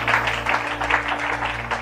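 Broadband crowd applause at a Sunday thanksgiving church service, steady and sustained over a low hum, with a few swells in intensity.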